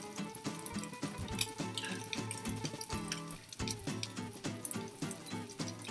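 Water from a pot of boiled potatoes pours and splashes steadily into a kitchen sink, a continuous close gurgling rush with uneven bursts throughout.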